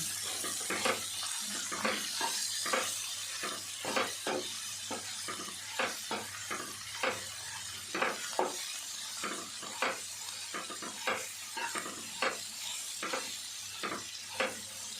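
Ivy gourd (dondakaya) pieces tossed with salt and chilli powder in a frying pan, with a soft constant sizzle broken by regular, fairly loud scraping stirs of a spoon against the pan.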